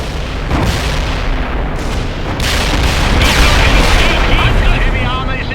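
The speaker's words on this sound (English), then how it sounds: "I've got a payload of cluster bombs and I'm on the way" Cluster bombs going off in the video game World in Conflict: a loud, continuous roar of overlapping blasts and rumbling booms that swells and stays dense throughout.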